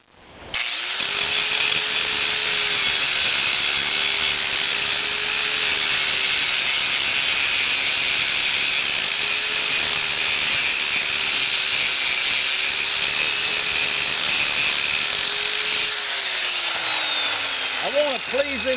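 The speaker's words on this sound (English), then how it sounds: "the wonders of a 4-inch grinder" A 4-inch angle grinder shapes metal parts for a crankshaft concentricity gauge in a workshop. It gives a loud, close, continuous abrasive whine for most of the stretch, then winds down at the end.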